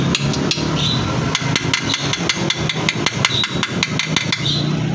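A Honda Vario 160 scooter frame is struck repeatedly with a metal tool to test it, giving a rapid series of sharp, close metallic taps and clinks over a low background hum.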